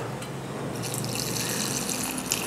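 Water is poured into a bowl to soak dahi bhalla, a steady hissing stream close by with no talk over it.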